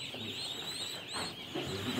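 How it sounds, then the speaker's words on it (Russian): Hens clucking softly inside a poultry coop where one hen sits brooding on eggs, a steady low murmur of fowl calls throughout with a slightly louder burst near the end. "Смотрю, курица сидит на яйцах."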